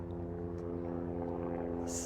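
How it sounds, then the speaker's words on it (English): A helicopter passes overhead, a constant low rotor and engine drone with a pulsing rumble that stays loud and steady throughout, no voices over it. "And here comes a helicopter,"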